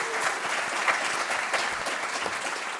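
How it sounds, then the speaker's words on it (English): Sustained applause from a live audience at the Star Wars Celebration Europe 2023 podcast stage, dense and steady throughout with scattered claps standing out from the crowd. "Round of applause to all of you for coming out here."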